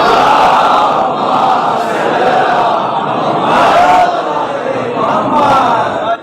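Mourners at a Muharram majlis recite salawat together as a group response, a loud, continuous chorus of many voices rising and falling in waves over about six seconds.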